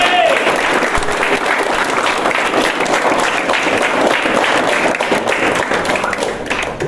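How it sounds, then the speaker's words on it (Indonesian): At a motivational talk for security workers, an audience breaks into loud, sustained clapping that holds steady for several seconds, close and full, easing slightly near the end. "Tepuk tangan."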